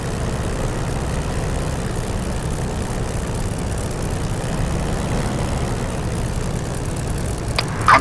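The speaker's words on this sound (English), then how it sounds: "Continue to idle the engine at 1000 to 1200 RPM" Spitfire piston engine idling in the DCS flight simulator, a steady low droning rumble held evenly throughout, with a brief click near the end.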